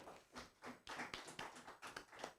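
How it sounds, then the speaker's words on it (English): An audience at a partners' forum gives a speaker a round of applause, dense, steady clapping from many hands, faint and distant throughout. "A bigger round of applause for Mr."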